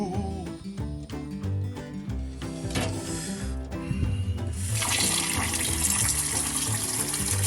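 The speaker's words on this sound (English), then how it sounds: "Now some cold water so that I don't burn myself peeling it" Cold tap water runs in a kitchen while eggs are being readied for peeling, starting with scattered clatter and then a steady close splashing rush that fills the second half.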